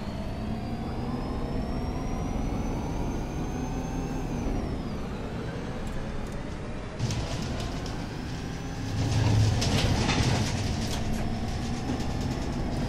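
A tram passes a crossing in the Omsi 2 bus simulator on the Metropole Ruhr map near Gladbeck, a steady rolling rumble with gliding electric motor whine and a burst of air-brake hiss, fairly close, with no talking.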